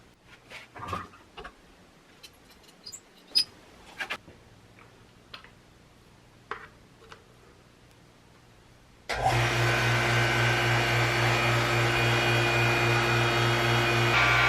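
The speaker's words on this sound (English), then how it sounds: "Watch what happens when I put a vacuum on it." Scattered clicks and taps, then a vacuum pump on a homemade pugmill starts suddenly and keeps running with a loud, steady hum and whine to the end.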